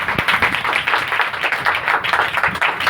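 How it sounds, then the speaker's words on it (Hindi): A congregation at a prayer meeting claps loudly and steadily, a dense run of hand claps filling a few seconds without speech. "एक बार जोर से तालियां हो जाए"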